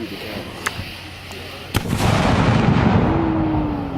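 A cannon loaded with grape shot in a bag fires at a Civil War reenactment of Morgan's Raid, a single sharp outdoor boom followed by a rumbling roar that lingers; smaller pops and crowd noise come before it.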